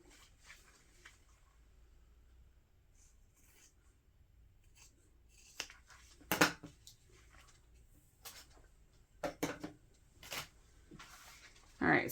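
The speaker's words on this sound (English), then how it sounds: "I'm just going to trim away the excess. Make sure that you don't cut through the long piece of vinyl at all." Scissors trimming excess vinyl for a dog leash: faint rubbing and handling at first, then several sharp snipping cuts in short bursts, close by and fairly loud against a quiet background.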